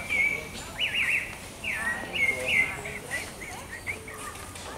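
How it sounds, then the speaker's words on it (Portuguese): A rufous-bellied thrush (sabiá) sings bright, warbling phrases in a park, several clear bursts repeating over a few seconds amid faint outdoor background, close and fairly loud. "Você é sabiá, né?"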